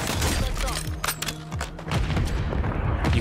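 A cooked grenade blows up in a Warzone match amid heavy gunfire, a dense mix of booms, thuds and crackling shots, loud and continuous, with voices talking underneath.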